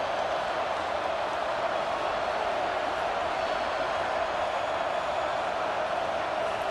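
Stadium crowd noise in a college football video game forms a steady, broad roar during a big third-down play, constant and moderately loud with no distinct voices.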